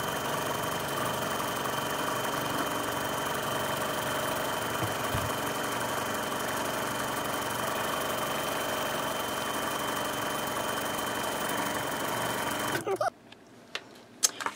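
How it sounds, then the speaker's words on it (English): A sewing machine running a zigzag stitch over a raw fabric edge on a ruffle apron, humming continuously and close for most of the time, then stopping abruptly, with a few faint handling clicks afterwards. "go back and do a zigzag stitch over the raw edge"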